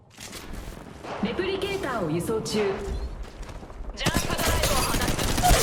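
Apex Legends Mobile gunfight: a dense rattle of rapid gunfire builds and grows louder toward the end, mixed with movement and game sounds, with talk running over it.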